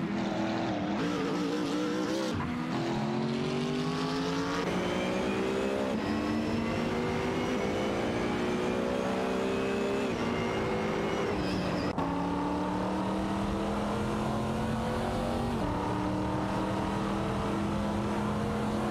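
Race car engines, including a Porsche 968 Turbo RS, roar loud and continuous in a racing video game, with rising and falling whines as they rev through gears and overlap one another.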